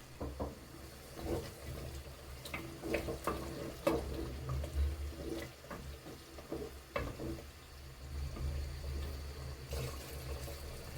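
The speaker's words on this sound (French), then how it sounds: "on remue un peu, puis on met de l'eau chaude" Stirring a pot of Algerian chorba frik soup, then hot water poured in: scraping, bubbling and liquid splashes close by, irregular and moderately loud.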